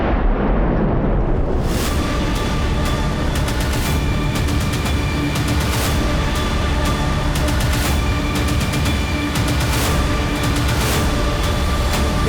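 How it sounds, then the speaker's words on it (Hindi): A building explosion in a crime drama erupts loudly into a long, heavy rumble with crackling debris and rattling that continues for several seconds. "ये तो छोटा सा धमाका था।"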